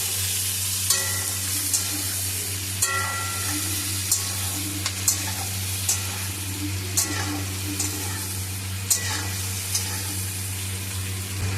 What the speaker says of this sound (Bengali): আর দিচ্ছি ক্যাপসিকাম। ভালো করে নাড়াচাড়া করে নিচ্ছি।